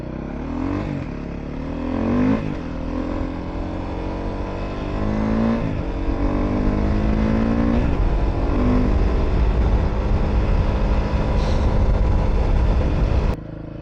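A motorcycle engine runs steadily on the road for over ten seconds, rising and falling in pitch as it shifts through gears, loud and close, then cuts off abruptly.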